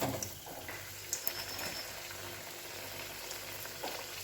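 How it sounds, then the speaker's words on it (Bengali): Paratha roasting on a hot pan at home, giving a steady soft sizzle with faint crackles throughout and a few brief clicks, no voices. "পরোটা বেলা হচ্ছে, দিদি বেলছে আর আমি সেঁকে নিচ্ছি"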